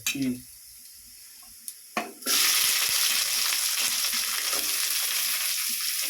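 Onions dropped into hot oil with crushed garlic in a home kitchen: a loud sizzle bursts in after a couple of light clinks and stays as steady, crackling frying to the end.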